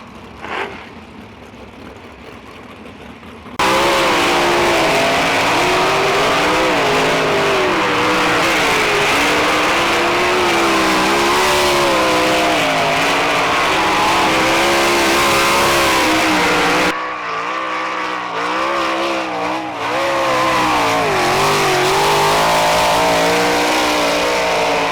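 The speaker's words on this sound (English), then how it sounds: "So we got cars on track for heat races." Race cars running heat races on the Gas City racetrack on a Thursday night: a loud, continuous engine roar with rising and falling revs as the cars circle, briefly dipping before surging again.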